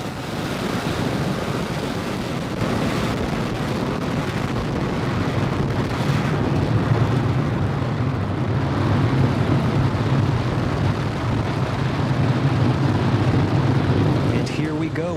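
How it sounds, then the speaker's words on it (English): Falcon 9 rocket engines roar steadily after liftoff on the Türksat-5A mission, a continuous loud low rumble with broadband noise and wind buffeting that holds for the whole stretch, distant and unbroken. "We're now 30 seconds into flight on the Falcon 9. All engines are running at full power."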